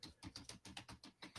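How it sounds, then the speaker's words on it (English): Quick, even typing on a computer keyboard, about ten soft key taps in a row, faint and close. "That's me typing on Amazon right now."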